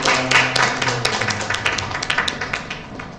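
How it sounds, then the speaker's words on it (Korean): An audience at a book concert claps after a presentation ends, a steady dense round of applause that slowly tapers off, with no voices over it. "박수를 받으려고 하겠습니다."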